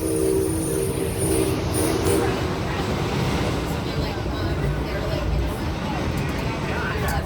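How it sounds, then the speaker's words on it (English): A real working steam locomotive on a Six Flags amusement park train ride rumbles and clatters steadily throughout, a dense continuous roar with voices faintly mixed in. "The Tommy G is a real working steam locomotive."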